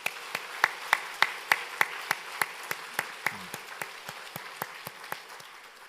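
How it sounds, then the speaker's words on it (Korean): A church congregation at a Christmas service claps together in a steady rhythm, about twenty crisp unison claps, with only faint murmuring underneath. "오늘 처음 오신 분들, 오랜만에 오신 분들 위해서 우리 한번 환영의 박수 한번 보내도록 하겠습니다."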